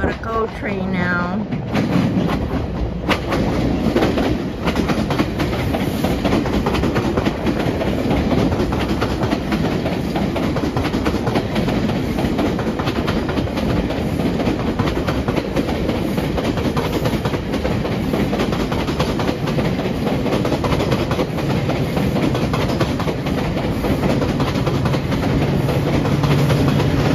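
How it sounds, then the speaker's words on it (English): GO commuter train rolling past on rails beneath a Toronto bridge at night, a steady loud rumble with clickety-clack wheel rhythm filling the whole span, and a voice briefly speaking near the start. "Got a go train now."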